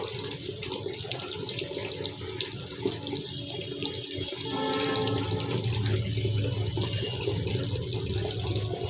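Water running from a tap into a container, a steady rushing flow that grows fuller and louder partway through, with no talking.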